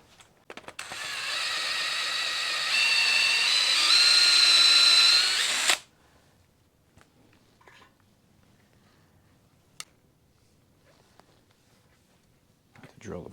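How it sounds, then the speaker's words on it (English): A power drill whines loudly for several seconds drilling out metal on a box Chevy, its pitch rising under load before cutting off, followed by quiet with a few faint clicks. "Drill the bottom out really big just to get the nut in there"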